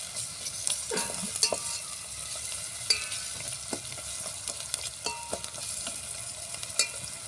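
Tomatoes simmering in oil with masala in a pot on a wood-fired stove for a mixed dal dish, a soft continuous sizzle broken by scattered spatula scrapes and clinks, no voices.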